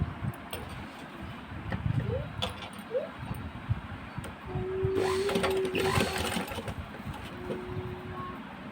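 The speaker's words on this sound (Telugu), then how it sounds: "ఈ హ్యాండిల్స్ అనేది ఇక్కడ నుంచి ఇట్లా పెట్టుకొని ఇట్లా పెట్టుకొని స్టిచ్ చేసుకోవాలి" A sewing machine stitches handles onto a handmade cloth bag, its fast needle chatter running steadily and close, swelling louder midway through, with faint handling noises and no talking.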